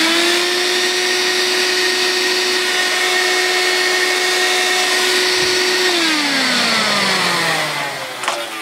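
An old Bissell Magic Broom electric sweeper with dry bearings runs with a steady, close whining motor hum. Near the end the pitch drops as it winds down and stops, followed by a faint clunk.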